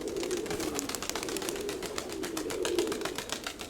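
Pigeons cooing in a coop with dense low throaty coos running continuously, close by and alone, with faint rustling and wing movement.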